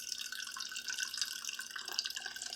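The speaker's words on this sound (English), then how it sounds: "all I'm going to do is open that spout and pour out the juice." Grape juice poured from the spout of a bucket, a light trickling and dripping liquid stream with small splashy spikes, close and continuous, with no talking.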